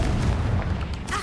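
Confringo spell blast in the Hogwarts Legacy video game, a dull booming burst that rolls through the low end for about a second with a fainter crackle trailing near the end.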